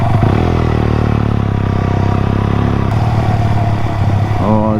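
A Honda CBR125R motorcycle on a ride, its small engine droning steadily and loud close by, with a shift in pitch partway through and a brief change near the end.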